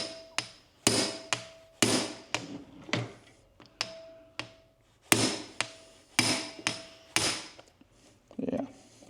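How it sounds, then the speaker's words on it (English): A manual impact driver is struck repeatedly with a hammer on the engine case screws of a DRZ400SM being split apart, giving sharp, loud, close metallic blows in an uneven rhythm, about a dozen hits. "Make sure my impact driver is ready for some fun times."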